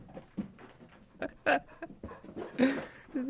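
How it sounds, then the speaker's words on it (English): A hyper dog sprinting around indoors, with scattered paw patters, quick scrabbling bursts and a few soft whimper-like yips, close and intermittent with quiet gaps between. "The dog is going crazy. She's just sprinting."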